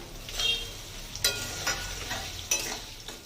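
Slit green chillies and halved tomato frying and being stirred in a pan for a vegetarian papaya curry, with a steady soft sizzle and a few louder scraping stirs, no talking.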